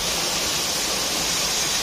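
Kuntroo cave waterfall in Odisha, a steady, loud broadband rush of falling water filling the scene without pause, with no voices.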